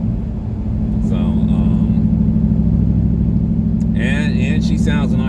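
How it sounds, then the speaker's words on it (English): Ford EcoBoost turbocharged car running with its exhaust cutouts open: a loud, close, steady low rumbling drone throughout, with brief higher whistling turbo and engine tones rising over it. "She especially sounds nice with the with the cutouts open."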